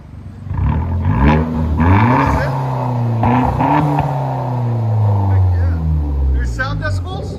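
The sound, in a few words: 2011 Hyundai Genesis Coupe R-Spec straight-pipe dual exhaust revving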